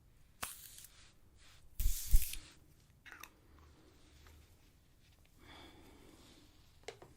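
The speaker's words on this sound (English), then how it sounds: "This continuous setting mist works great for the lights." A Morphe continuous setting mist sprays in a quiet salon setting: two or three short, close hissing bursts, the strongest a double spritz in the middle, with faint soft handling noises between them.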